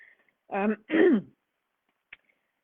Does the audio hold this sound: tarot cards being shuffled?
no